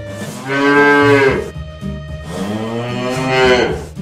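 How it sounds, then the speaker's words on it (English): A bull gives two long, deep, loud moos close by, each swelling and fading, with a brief pause between them. "Bull."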